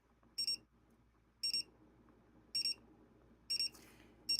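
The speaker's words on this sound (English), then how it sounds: "So it just kind of beeps, and they kind of hear it" A dog training collar's short electronic double beeps repeat about once a second, five bursts in all, clear and close over a faint low background hum.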